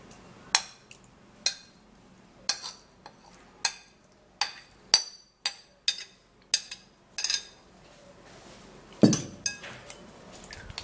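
A bowl is handled while straining a hair growth mixture, making a series of about a dozen sharp clinks and knocks of dishware and utensils, irregularly spaced, close, with a heavier thud near the end.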